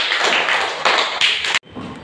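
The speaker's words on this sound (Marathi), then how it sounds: "5 वेळा टाळ्या वाजवा." A group claps in a burst of quick, overlapping hand claps for a quiz winner at a Saturday fun activity, loud and close, with a few short pauses and an abrupt stop near the end.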